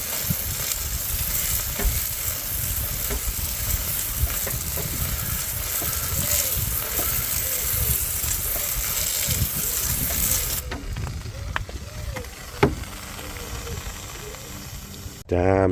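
Steady hissing and sizzling from the overheated, failing brakes of a T4 rat rod as parts melt, continuous and close with brief handling noises near the end.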